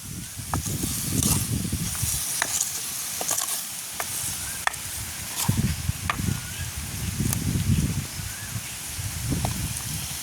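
Squid coated in salt and spice powder is stir-fried in a pan in a village kitchen. A close, continuous sizzle is broken by repeated scraping bursts as the pieces are tossed.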